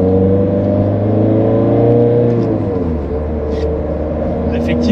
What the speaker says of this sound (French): On va essayer d'accélérer un peu là.